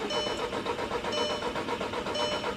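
A car engine cranks repeatedly with a new fuel pump fitted, the starter churning in a steady rhythmic pattern close by without catching, no voices over it.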